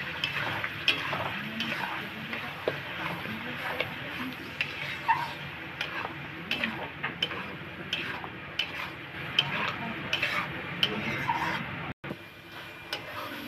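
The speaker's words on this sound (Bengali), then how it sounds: "এটা এখন তেলের মধ্যে দিয়ে ভালো করে কষিয়ে দেব।" A cauliflower leaf and stem paste is stirred and fried in oil in a pan, giving continuous soft scraping and clinking of the spoon under a faint sizzle, close by and fairly quiet.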